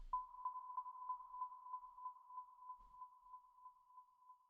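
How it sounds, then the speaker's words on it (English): A big, dry, plain sine wave from a SuperCollider patch routed through a delay into reverb: one steady pure tone with a faint rhythmic pulsing of repeats that slowly thins out, alone and fairly quiet. "the first thing we hear is a big, dry, plain old sine wave"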